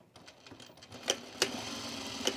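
A sewing machine stitches elastic into pajama bottoms, a quiet mechanical whir with a few sharp ticking clicks rising now and then, fairly faint and close, with no talking.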